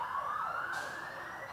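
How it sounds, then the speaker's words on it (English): An ambulance siren wailing in the background of an indoor class, a rising tone sweeping upward and holding, moderately loud and steady, with no talking over it. "this ambulance sound in the background"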